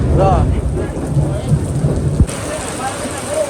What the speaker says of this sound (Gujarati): ફૂલ વરસાદ હો ભાઈ